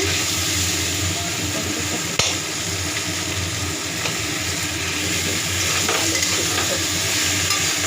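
Cumin, coriander, ginger and tomatoes cook in a pan with a loud, continuous sizzle and bubbling, close up, with a single sharp knock early on and no talking.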